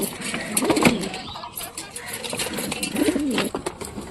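Pigeons coo in a loft before feeding, low throaty calls rising twice amid steady background noise, fairly close.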